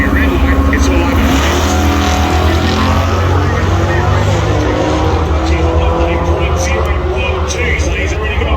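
Drag racing cars at the Dragway At The Bend Spring Nationals roar down the strip wide open, a loud sustained engine drone lasting throughout with a commentator talking over it.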